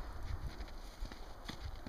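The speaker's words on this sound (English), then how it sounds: "Oh, Shadow, don't scare the horses" Large fluffy ranch horses walking in Summerland at Christmastime, hooves clip-clopping in an uneven steady rhythm under constant outdoor background noise, fairly close.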